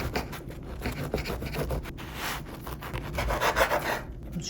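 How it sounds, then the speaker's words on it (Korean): A small bread knife saws back and forth through a sandwich, cutting it in half; steady raspy scraping strokes, close and continuous, growing slightly louder toward the end, with no voices. "얘를 이렇게 반으로 자르고 샌드위치로 먹을 수 있게 자르고"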